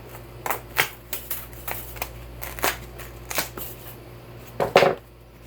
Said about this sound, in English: we're going to cut another piece of the black insulation foam